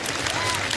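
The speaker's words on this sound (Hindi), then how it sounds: "अपने लिए भी तालियां बजा लीजिए आप लोग सबके सब" A large crowd at a celebrity event claps in a dense, continuous wash, loud and close, with no pause across the short stretch.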